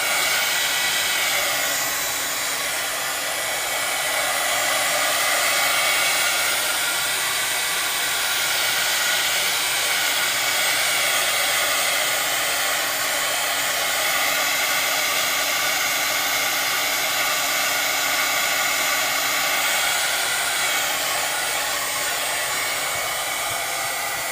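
A hair dryer blows steadily and loudly for the whole stretch, drying a pink Cricut fabric cutting mat after cleaning, a continuous broadband whoosh with slight swells as it is moved.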